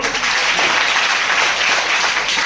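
Audience applause at a school poetry recital (kavi sammelan), dense continuous clapping from a crowd of children, loud and steady throughout.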